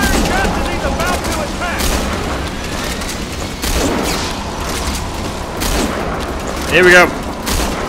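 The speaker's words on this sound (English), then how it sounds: "I'm just shooting away." Gunfire in the video game Metal Gear Solid V: The Phantom Pain, heard as repeated booming shots and clattering mechanisms over dense game noise, with a person talking briefly.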